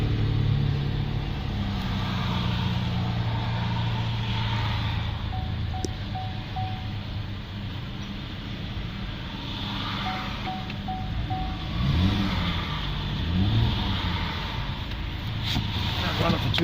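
A Holden ZB Commodore RS hatchback with a 3.6 V6 LGX engine, AWD and automatic transmission, 97,604 km and a squashed radiator, runs steadily after a push-button start: a continuous low rumble with faint background noise.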